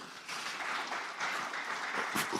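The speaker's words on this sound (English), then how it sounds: "I want to actually request the audience to please give the panel a round of applause" Audience at an agricultural development and investment summit in the Niger Delta applauds the panel, a fairly faint, distant wash of clapping in a large hall.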